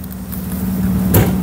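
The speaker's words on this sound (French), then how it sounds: "Est-ce que tu peux m'ouvrir le capot moteur?" The bonnet of a Peugeot 308 GTi with a 1.2 PureTech engine is opened, giving one close, brief clunk near the end over a steady low hum, without talk.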